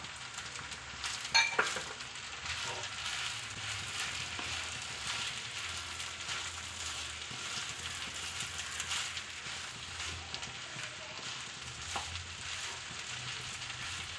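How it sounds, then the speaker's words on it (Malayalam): Egg and chicken hissing and sizzling in a pan of restaurant-style chicken fried rice, with steady crackling frying, spatula scrapes and stirring clatter up close throughout, a few sharper knocks near the start. "ഇനി നമുക്ക് ഇതിലോട്ട് മുട്ട ചേർത്ത് കൊടുക്കാം അതുപോലെ തന്നെ നമുക്ക് ചിക്കൻ ചേർത്ത് കൊടുക്കാം"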